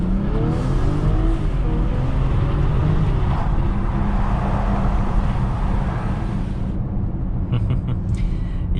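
A 2021 BMW X6 SUV in sport mode accelerates hard from inside the cabin, a steady loud engine and road roar building throughout, with a voice speaking over it briefly.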